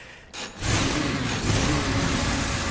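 Dante's engine sword in Devil May Cry 5 revs up after a brief pause, holding a loud, continuous mechanical roar with slight surges, heard alone without talk.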